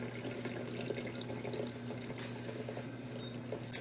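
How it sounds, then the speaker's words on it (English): Water slowly poured off rinsed lentils, a faint, steady trickle with a low hum behind it, quiet and continuous. "Really slowly pour it out or you'll lose a lot of your lentils"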